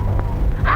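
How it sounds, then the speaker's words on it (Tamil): A dog gives a quick bark or yelp near the end of a short burst, close and fairly loud against a low rumble. "என்ன இப்படி குறைக்குத?"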